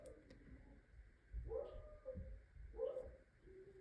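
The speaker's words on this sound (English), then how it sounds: "Now the dog's barking to get back in" A dog indoors barks to be let back in, giving two short, whiny barks about a second apart. They sound faint and distant over a quiet background.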